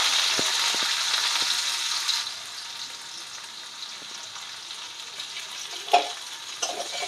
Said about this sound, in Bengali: রসুনটা হালকা ভেজে নেব।